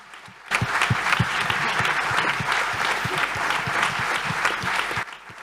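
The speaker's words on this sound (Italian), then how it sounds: "Un grande applauso a loro" Audience applause at an Italian public talk event, steady dense clapping from a seated crowd that starts abruptly and holds at an even level for several seconds before cutting off.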